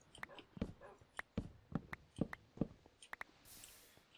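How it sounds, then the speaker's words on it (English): Dragon dogs in a video game bark in a quick run of short, sharp yips and bow-wows, about a dozen in four seconds, close and fairly loud over quiet game ambience. "Dragon dogs everywhere."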